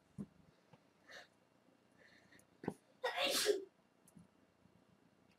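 A single sharp sneeze from someone at a vaping workbench, loud and close, preceded by a few soft breaths and small handling noises in a quiet room.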